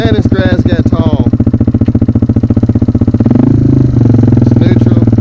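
A 1991 Yamaha Moto-4 250 ATV engine runs loud and close with a steady rapid thumping beat, the pitch shifting partway through as it settles, while someone talks over it at the start.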